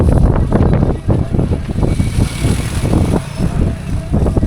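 Cold wind blows hard into the microphone on an outdoor walk in Sri Lanka, making loud, low rumbling gusts that buffet unevenly throughout.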